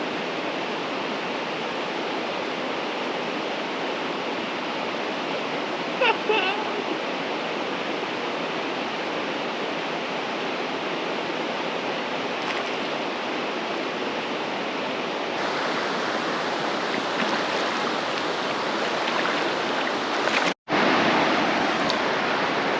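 A small waterfall on a stream in the Ozarks rushes steadily and close by, with no voices over it.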